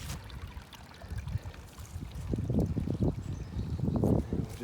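Groundwater from a sump pump gushing out of a cut drain pipe into a small pit, a steady close trickle and splash that swells louder and more turbulent toward the end, with no talking.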